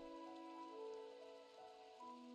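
Steady rain in the farming video game Doraemon Story of Seasons, a continuous even patter over a layer of sustained game music tones, with no voices.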